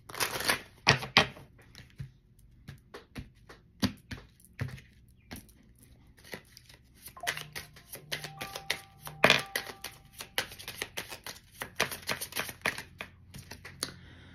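Tarot cards shuffled in a string of crisp riffles and soft flutters, close and fairly loud, with brief pauses between bursts and no talking.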